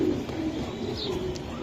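Racer pigeons coo softly and steadily in a loft, a low murmuring coo that runs throughout the moment.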